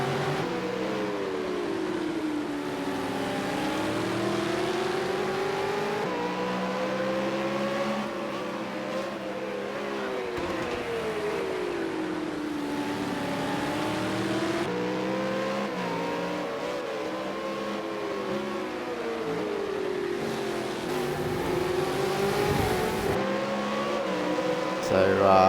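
Super2 V8 Supercars race cars on the Long Beach street circuit, their engines droning continuously with rising and falling revs as they accelerate and brake through the corners, steady and fairly loud with commentary talking over them.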